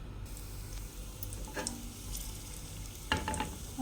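Mustard seeds and cumin sizzle faintly in four tablespoons of hot oil in a pressure cooker, a soft continuous fry with scattered sharp pops and crackles as the seeds splutter.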